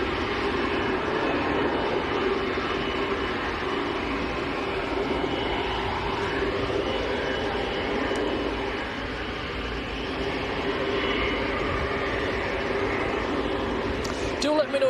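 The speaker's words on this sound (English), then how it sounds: "Noisy little ATR." A small ATR turboprop airliner at Manchester airport gives a loud, steady engine drone that fills the whole stretch, with faint talk mixed underneath.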